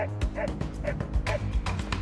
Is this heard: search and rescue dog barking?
yes